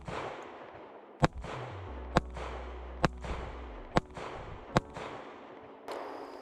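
A SIG 365XL pistol fires six sharp, loud shots at a steady pace, roughly one each second, with a brief ringing decay after each report and no talking.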